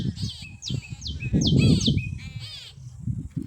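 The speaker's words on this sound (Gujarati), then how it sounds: "પક્ષીનો અવાજ સાંભળવાની કેવી મજા આવે છે ખેતરમાં" Several birds calling outdoors in a farm field, repeated sharp chirps and caws rising over a low rumbling background, fairly close and lively.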